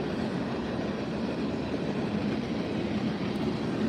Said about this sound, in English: Y'all just bear with me until this train comes through, okay?